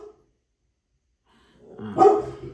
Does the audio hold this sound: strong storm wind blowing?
no